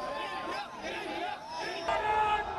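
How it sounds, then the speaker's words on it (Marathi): Young people celebrate in Nagpur's Laxmi Bhavan square late at night after India's T20 win over Pakistan. A crowd cheers and shouts nearby in overlapping bursts, with chatter mixed in. "लक्ष्मी भवन चौकात आपण बघू शकतो की किती मोठ्या प्रमाणामध्ये जल्लोष केला जातो आहे"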